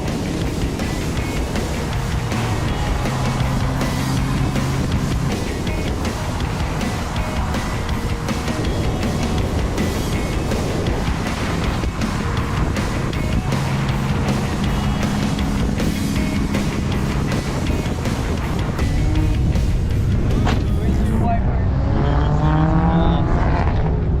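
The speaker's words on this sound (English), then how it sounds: "So why not take a test drive on the way to the meet?" A Nissan 240SX drives on the road, its engine droning loud and steady with gear changes and rising revs throughout, the car's sound filling the cabin.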